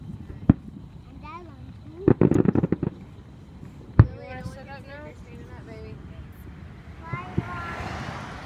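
Fireworks at an outdoor show: scattered sharp pops and a rapid crackling burst, moderately distant, mixed with whistling rises, a voice and light talk from nearby family.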